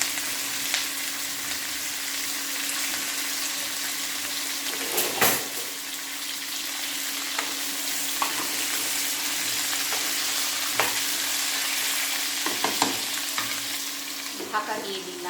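Washed mixed vegetables frying in a wok with five-spice seeds and green chillies, a steady hissing sizzle throughout with occasional clanks and scrapes from stirring nearby.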